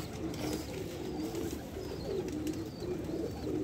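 Pigeons coo in repeated low, rolling calls on a rooftop in Jhelum, fairly close, with faint higher chirps and steady outdoor noise behind them.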